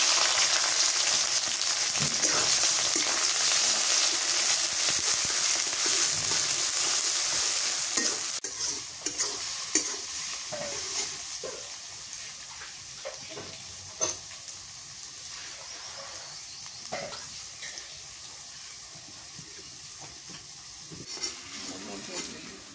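Chopped onions frying in oil with cardamom, cloves and cinnamon, a strong sizzle that settles into a softer hiss broken by scraping and stirring taps.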